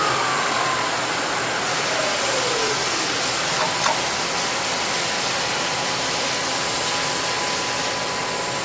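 A Shizuoka AN-S vertical machining center runs with a steady, smooth mechanical hum and broadband whir, constant and fairly loud throughout, with a faint pitch sweep early on.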